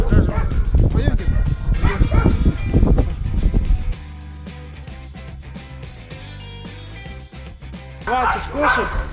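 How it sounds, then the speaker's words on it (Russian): Dogs and puppies at an animal shelter barking and yipping in loud, rapid bursts, close by, quieting for a few seconds before the barking starts up again. "14 щенков и где-то 25 собак взрослых"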